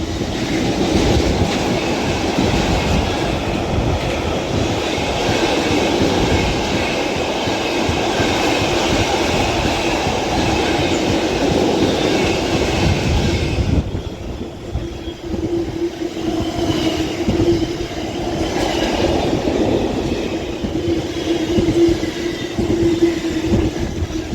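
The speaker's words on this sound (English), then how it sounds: "as that freight train heads off" A freight train hauled by locomotive 66304 rumbles past continuously at Runcorn on the West Coast Main Line, wheels clattering along the rails, loud and close, then the noise thins slightly as it moves away.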